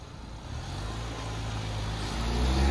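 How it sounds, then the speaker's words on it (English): A 2021 Ford Bronco pulls away outdoors, its engine and road noise a steady low rumble that grows louder toward the end, with no voices. "let's see this thing drive away"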